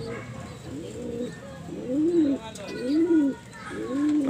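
Racing pigeons arriving home, cooing in repeated rising-and-falling calls, about four close, clear coos in steady rhythm, with soft background noise.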